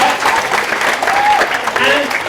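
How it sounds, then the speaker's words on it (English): A crowd gives a short, warm burst of applause for a boy who finished reciting a poem, steady close clapping with a few voices and cheers rising faintly underneath. "Give him a round of applause."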